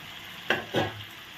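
Whole boroli river fish slide into a boiling spicy gravy, giving two quick splashy bursts that settle into a soft, close sizzle with no talking.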